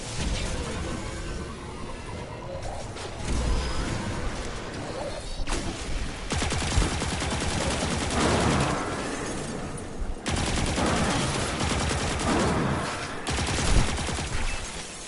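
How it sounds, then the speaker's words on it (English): Submachine gun fire in the video game Destiny 2 comes in rapid, dense bursts of shots that rattle on almost continuously at high loudness, broken by brief pauses, with other game effects layered underneath. "So it's also a submachine gun as well for that."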